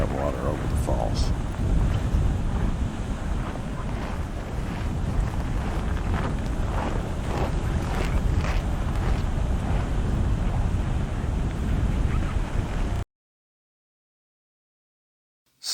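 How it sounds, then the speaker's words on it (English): A steady, broadband roar of a waterfall in Yellowstone in winter, heard from far away and sustained for about thirteen seconds before cutting to silence. "You can still hear the roar of that water over the falls."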